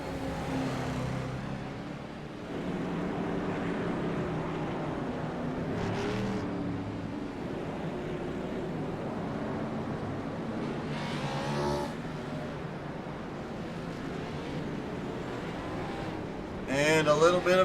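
Whelen Modified race cars at Concord drone steadily around the track, engines roaring and rising as cars pass, with a sharper burst of revving near the end and commentary heard over the engines.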